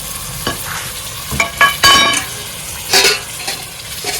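Hot oil sizzles in a pan while a spoon stirs and scrapes in short, uneven bursts, close up, with no talking.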